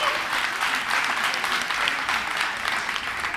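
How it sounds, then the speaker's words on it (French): Steady applause from an audience at a youth speaking competition semi-final in Guinea, a continuous bed of clapping from many hands held at a fairly even level for a few seconds, with no voices over it. "Est-ce qu'on peut les applaudir, s'il vous plaît?"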